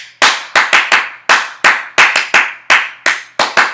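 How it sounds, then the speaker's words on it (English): Crisp, loud hand claps ring out in the clapped gap of the Bingo children's song, a dozen sharp claps in quick uneven groups, each with a short decay, and no voices. "replace it with five claps"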